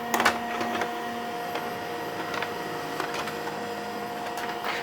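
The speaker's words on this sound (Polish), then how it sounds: "Spróbuję jakąś stronę testową wysłać do tej drukarki." A Brother HL-1110E laser printer prints a test page with a steady mechanical whir and soft intermittent clicks, close and moderately quiet, continuing without a break.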